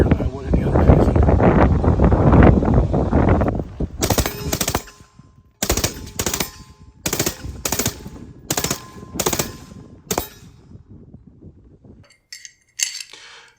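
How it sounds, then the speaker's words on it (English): A suppressed rifle fitted with a KAK down vent bolt carrier group fires a rapid string of sharp, evenly spaced shots outdoors after a stretch of wind-buffeted noise, each report muffled but cracking with a short echo. "when we fired it, we shot with a suppressor on there"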